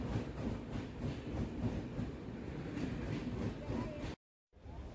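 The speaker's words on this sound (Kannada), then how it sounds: "ನಾವು ಹೋಗೋ ಟ್ರೈನು ಇವಾಗ ಕಡೂರು ರೈಲ್ವೆ ಸ್ಟೇಷನ್ಗೆ ಬಂತು" A train pulls into Kadur railway station with a steady, fairly loud rumble and clatter of rolling wagons. The noise cuts out briefly near the end, then resumes.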